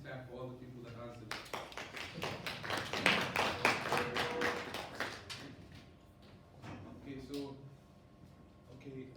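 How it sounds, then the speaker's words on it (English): Students in a classroom clap together for classmates who answered, a burst of dense hand claps rising and fading over several seconds, with people talking before and after. "Can we please clap for all the people that answered?"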